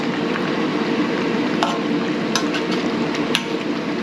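A pot of pork menudo stew bubbles and simmers steadily up close, with a few scattered clinks and scrapes of a spoon against the rim.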